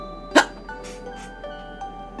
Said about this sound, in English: I got jalapeno hiccups.